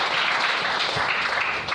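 A church congregation claps and cheers for the Lord in a dense, sustained burst of applause filling the room, steady and loud for under two seconds, with no distinct speech.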